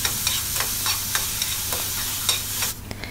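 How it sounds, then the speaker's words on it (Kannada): Finely chopped onions fry in a pan for capsicum masala, a steady close sizzle broken by repeated scrapes and clicks of a spoon stirring them, with no voices. "ಈ ಈರುಳ್ಳಿ ಸ್ವಲ್ಪ ಸಾಫ್ಟ್ ಆಗಬೇಕು, ಅಲ್ಲಿವರೆಗೂ ಈ ರೀತಿ ಚೆನ್ನಾಗಿ ಫ್ರೈ ಮಾಡ್ತಾ ಇರಿ."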